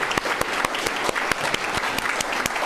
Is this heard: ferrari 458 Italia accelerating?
no